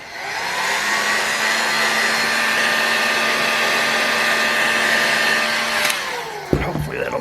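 A heat gun warms the case of an OS FT-240 engine to free a crankshaft bearing, blowing as a loud, steady, close whir for about six seconds before switching off, followed by a few light metallic clanks.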